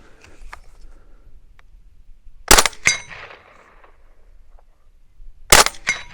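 Two sharp, suppressed gunshots from a Steyr AUG rifle chambered in .300 Blackout, spaced about three seconds apart, each a quick crack with a short ringing tail over quiet background.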